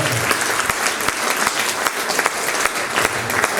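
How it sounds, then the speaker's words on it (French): A theatre audience at a 2020 amateur stage performance claps in a dense, steady burst of applause. Close and lively throughout, with no voices above it. "je pense qu'on peut l'applaudir"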